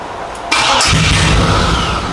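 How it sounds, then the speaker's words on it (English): A G-body car engine being cranked in an attempt to start: a sudden loud, rough mechanical roar kicks in and holds steadily for the rest of the moment, close by and without talk. "Let's see if we can pick up enough gas to get a start up."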